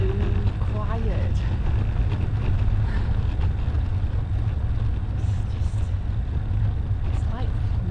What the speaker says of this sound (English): Just wind along the road.